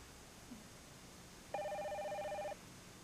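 A telephone rings once in a steady electronic tone lasting about a second, moderately loud against a quiet room during a soap-opera scene.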